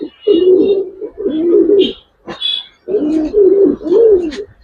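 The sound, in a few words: imported pigeons cooing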